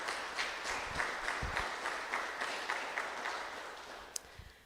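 A church congregation applauds together, a fairly distant, steady wash of clapping that holds throughout without voices over it.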